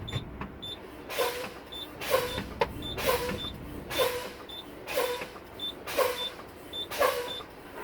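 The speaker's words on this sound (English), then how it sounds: "Now I'm going to continue fanning my brakes down to approximately, and that's a key word there, 40 psi" Truck air brakes pumped down repeatedly, each press releasing a sharp hiss of air, about seven evenly spaced bursts close by.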